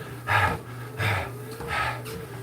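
Heavy, rhythmic breathing from a cyclist on a bike ride, three loud, close exhalations about a second apart over steady low background noise.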